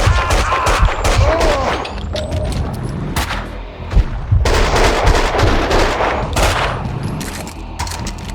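Dense gunfire fills a shootout in the game Max Payne 2, loud and continuous, with bursts of shots overlapping one another and sharp peaks standing out from a constant roar of battle noise.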